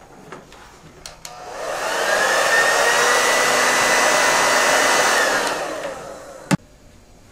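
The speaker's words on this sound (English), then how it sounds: "It can even power a blow dryer." A hair dryer powered by a Duracell PowerSource 1800 battery backup switches on and blows with a loud, steady roar for a few seconds, then shuts off, with small clicks before and after.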